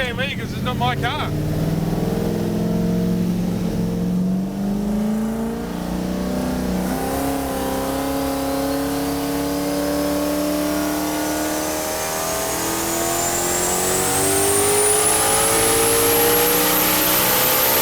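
A 1000 hp Toyota Supra with a rear-mounted turbocharged V8 revs close by, loud throaty engine sweeping up through long rising pulls, with a high turbo whine climbing steadily toward the end.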